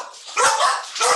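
Dogs indoors bark at a mail carrier, two sharp barks about half a second apart, loud and close with no speech.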